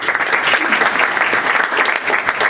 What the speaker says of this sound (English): let's still give them a round of applause